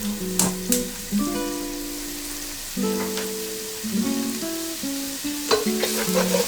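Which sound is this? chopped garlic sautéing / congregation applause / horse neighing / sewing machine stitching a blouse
chopped garlic sautéing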